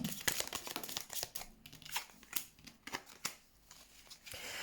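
Tarot cards are handled during a reading, giving soft papery rustles, flicks and sharp snaps in an uneven rhythm, quiet and close with no voices.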